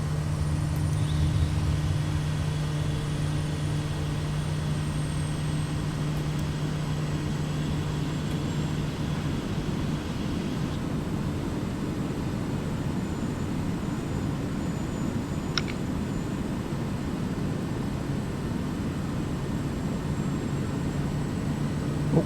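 Small airplane flying through canyons of the Andes in Peru at nearly 10,000 feet, a steady drone of engine and wind that holds even and loud without a break and with no talk.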